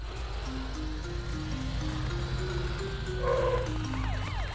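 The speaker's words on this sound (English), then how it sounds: "Matt, use your lights and sirens to wake him up" A cartoon police car's siren wails in a rising and falling pattern over a low engine rumble, joined toward the end by a second, higher warbling siren tone, moderately loud and with no talking.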